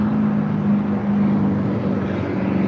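A jet airliner rolls for takeoff on runway 25 right at LAX, a steady loud engine roar with a low hum held evenly throughout, no voices.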